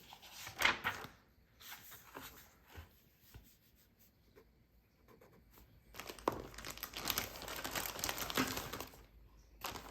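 Pen scratching and paper rustling in an art journal, soft and close, in intermittent bursts with pauses between strokes, growing busier toward the end.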